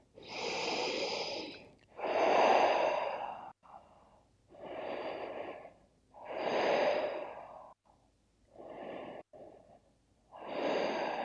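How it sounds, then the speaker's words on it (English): Slow, deep yoga breaths are heard up close, alternating long inhales and exhales in an even rhythm of about five full cycles, airy and audible with no talking. "I'll take 3 more breaths here"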